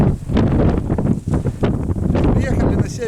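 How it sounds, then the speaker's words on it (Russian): Strong wind buffets the microphone out on ice during a burbot fishing trip, a loud, continuous roaring rush with gusty surges, and a voice talks over it. "Ветер жесть, нереальный."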